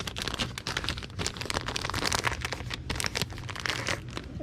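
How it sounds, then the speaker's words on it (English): Plastic tape is pulled and stuck across a plastic 45 LP record bag, giving dense, close crinkling and crackling with no speech. "Tape it across."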